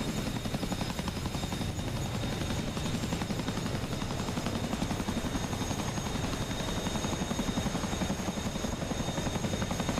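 A Chinook helicopter flies with a steady, dense rotor thump and turbine whine that fills the whole stretch at a constant loud level, with no talking.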